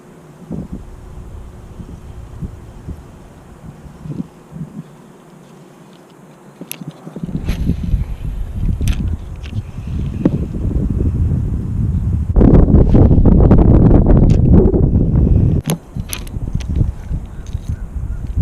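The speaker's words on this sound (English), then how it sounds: "I got a little bit of wind now" Wind gusts outdoors by a spillway, buffeting the microphone in a steady roar that grows stronger and rougher midway, with faint rustling and brief knocks.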